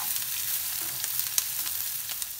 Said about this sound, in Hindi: अब मीडियम आंच पे हम सारी सब्जी को थोड़ा सा सॉफ्ट कर लेंगे